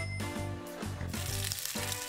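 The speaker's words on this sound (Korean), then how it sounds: "지글지글 소리 들으면서 귀로 먼저 음미해줄 시간." Steady crackling sizzle of Korean pancakes (buchimgae) frying in a hot pan, fairly close, with tonal background music running underneath.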